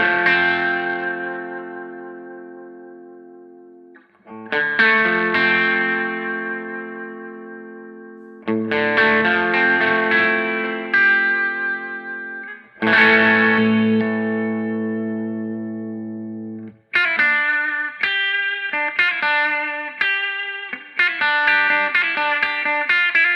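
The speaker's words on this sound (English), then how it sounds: "I'm going to demonstrate that to you with a little bit of extreme reverb settings" Marshall JTM60 1x12 combo guitar amp played with reverb turned up to extreme settings, loud strummed and picked chords ringing out in several separate bursts with long washy tails, closing on a quicker run of notes; no talking.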